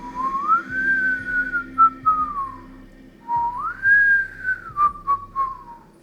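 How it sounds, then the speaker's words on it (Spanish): A melodic whistled tune, the song attributed to the ghost El Sombrerón, comes in two long rising-and-falling phrases with a brief pause between them. It is clear and close over a faint low hum. "dicen que silba una canción muy característica antes de ser visto"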